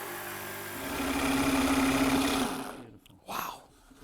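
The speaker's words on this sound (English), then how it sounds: "cut out the shape with a jigsaw" A jigsaw cuts through the base of a fireplace hearth, a steady buzzing, vibrating drone that swells and holds before cutting off, followed by a brief rattle.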